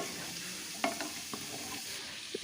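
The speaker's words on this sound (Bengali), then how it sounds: "আর এই সবজিগুলোও একটু ভেজে নিচ্ছি" Vegetables fry in a pan with a close, steady sizzle, broken by a few clinks and scrapes of stirring over the short stretch.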